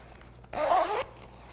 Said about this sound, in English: If you unzip your zipper.